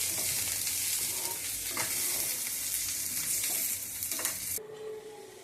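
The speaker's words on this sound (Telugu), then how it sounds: "క్యాప్సికమ్ ముక్కలు వేసి ఇలా వేసి క్యారెట్ ముక్కలు కూడా వేసేయాలి. కాస్త వేగనిచ్చి" Capsicum and carrot pieces fry with chicken and onion in a pan, giving a loud continuous close-up sizzle with occasional stirring scrapes before the sound cuts off abruptly near the end.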